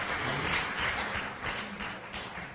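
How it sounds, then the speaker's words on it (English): A debate championship audience applauds its speakers, a soft, fairly distant patter of many hands clapping steadily for a couple of seconds without a break. "Please help us give a round of applause for these amazing speakers."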